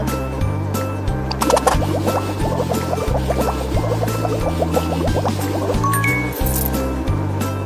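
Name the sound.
shampoo being applied to hair in a kids' video game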